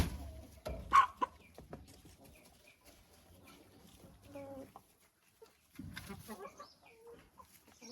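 Young chickens clucking in a coop at a rural village dacha, with soft scattered clucks and chirps, a few louder calls, close and irregular over a quiet background.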